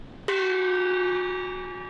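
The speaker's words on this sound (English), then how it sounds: "I have 2 identical gongs here, and I'm going to hit them, but one of them has duct tape on it" A gong with duct tape stuck on it is struck once with a sharp attack, then rings on with a steady metallic hum that fades slowly, alone in a quiet room.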